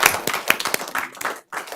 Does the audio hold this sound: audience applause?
yes